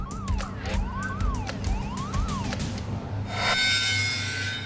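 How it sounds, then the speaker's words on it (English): Gas alarms on a North Sea oil platform's production deck wail in repeated rising and falling electronic sweeps, several overlapping, then a brighter steady high alarm tone takes over near the end, loud against a low hum. "These gas alarms are all from the production deck."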